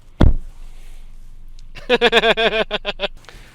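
A single heavy thud of a sixth-generation Opel Corsa's door shutting close by, followed after a pause by a voice laughing in short rhythmic bursts.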